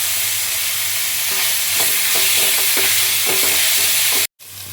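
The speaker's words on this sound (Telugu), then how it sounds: "అల్లం వెల్లుల్లి పేస్ట్, దీన్ని కలుపుకోవాలి. పచ్చివాసన పోయేంత వరకు ఇలా వేసుకోవాలి." Ginger garlic paste for chicken curry frying in a hot pan, giving a loud, steady sizzle with rhythmic scraping strokes of a spoon stirring, close by, cutting off abruptly near the end.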